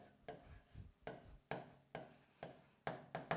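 A teacher writes on a board during a cost accounting lecture, making a quiet run of about eight brisk scratching strokes in an uneven rhythm, with no voice over them.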